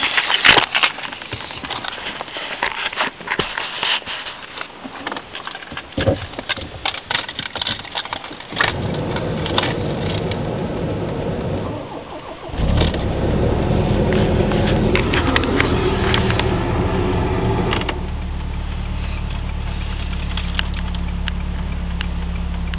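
A 1990 Volvo 740 GLE 16-valve petrol engine cranks and catches after two days parked near freezing, then settles into a steady, loud, close idle with a constant low rumble and no talking.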